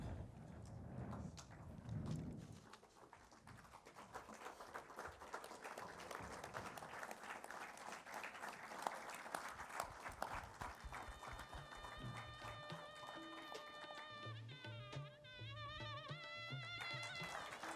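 A conference hall audience applauds at a felicitation ceremony, sustained loud clapping from many people running the whole length, with some crowd noise and music-like tones entering near the end.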